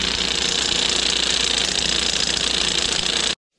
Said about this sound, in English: probably got to turn on the compressor